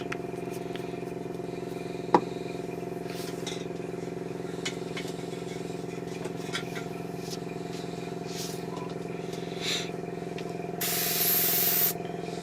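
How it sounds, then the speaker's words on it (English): An airbrush compressor hums steadily through the whole stretch while paint is sprayed on a 1/72 scale Bandai Y-Wing model, with a few small clicks and a brief louder spray burst near the end. "if you can hear me above the noise of the compressor"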